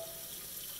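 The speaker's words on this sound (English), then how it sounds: "We're gonna fill it up with water." Water runs steadily from a small faucet into a pan being filled for cooking pasta, a continuous close hiss with no voices over it.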